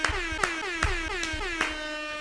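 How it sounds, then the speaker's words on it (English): An air horn blasts in a rapid series of rhythmic, brassy honks, loud and close, with short sharp pulses repeating across the sound. "Hit that air horn, Rob."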